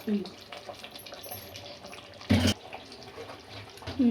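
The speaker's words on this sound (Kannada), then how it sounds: "ನೀರು ಹಾಕ್ತಾ ಇದ್ದಾರೆ" Water splashes briefly into a pot, a short burst amid quiet kitchen background noise, with a faint voice at the edges.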